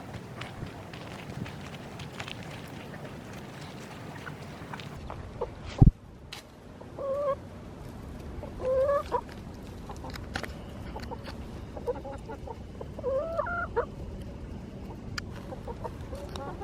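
Chickens cluck in a backyard garden, several short soft clucks and calls scattered through the stretch over steady outdoor background noise, with one sharp knock near the start.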